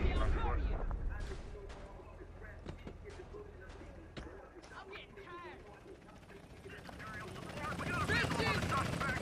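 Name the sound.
police helicopter flying overhead in video game GTA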